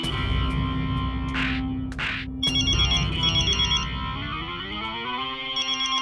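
A mobile phone ringtone plays loudly and continuously, its electronic melody cycling through repeated phrases with a slight echo over a steady background.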